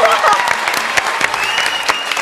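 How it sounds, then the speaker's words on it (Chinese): Studio audience clapping on a Taiwanese cooking show after a pan-fried cod dish is finished, a dense burst of applause filling the whole moment, loud and close with a faint voice underneath. "拍手。"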